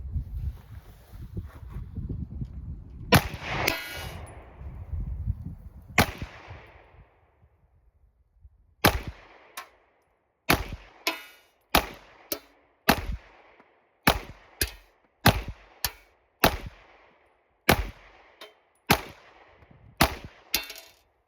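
A Taurus GX2 9mm pistol fired at an outdoor range at defensive distance, sharp loud single shots with short echoing tails, paced in an irregular steady string after some early rustling and handling noise.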